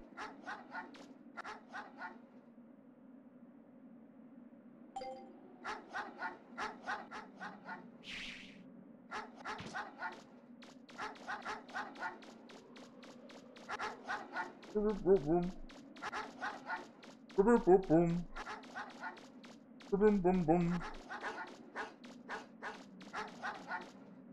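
Dogs from the MegaMan Legends video game barking in repeated short bursts over background game music, with someone talking at points throughout.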